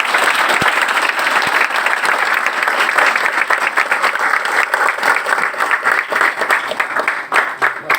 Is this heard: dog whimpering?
no